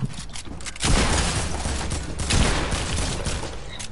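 Dense, continuous gunfire from an AK rifle and a pump shotgun in a video game, with rapid overlapping shots rolling on loudly without a break.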